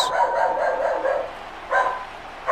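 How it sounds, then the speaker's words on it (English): A house dog barks after a FedEx delivery driver arrives at the door, giving a couple of bursts of muffled, fairly close barking against steady background noise. "FedEx man rolled up to the door, and the dog heard it"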